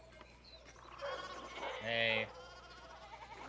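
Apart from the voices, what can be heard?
sheep bleating in video game Pentiment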